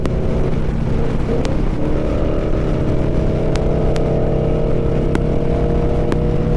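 A Ford Mustang GT pulls away hard beside a Harley Road Glide bagger motorcycle on the road, its steady engine roar blending with wind and motorcycle drone, loud and continuous.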